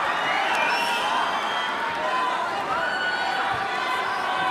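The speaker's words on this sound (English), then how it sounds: "And the crowd erupts." Arena crowd at a ONE Championship mixed martial arts bout, GeJe Eustaquio against Andriano Moraes, roaring in a steady, dense wash of cheering that holds loud throughout with no break.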